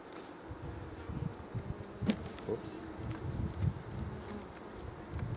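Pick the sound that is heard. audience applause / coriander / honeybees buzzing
honeybees buzzing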